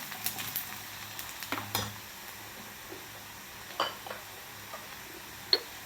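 Turmeric is stirred into onions frying in a pan while a tomato chutney is made, with a soft steady sizzle and a few sharp clinks and scrapes of a spoon against the pan, no voices.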